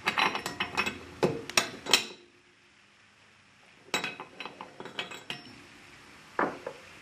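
A size 27 spanner works on the bushings of an Alfa Laval Unique aseptic single seat valve actuator, giving close metallic clinks and ratcheting clicks in two bursts with a quiet pause between.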